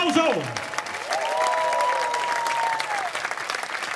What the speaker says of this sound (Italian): Grandi, fatemi un applauso!